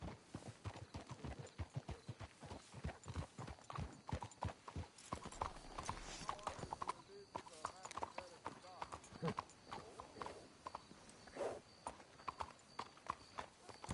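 Rhythmic clip-clopping horse hooves trot steadily throughout in Red Dead Redemption 2, with people talking over the top.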